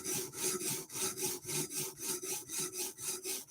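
A Microtech Stitch knife blade drawn back and forth across UKSG sharpening stones makes a steady, rapid run of close, even rasping strokes, around three or four per second, with no voices.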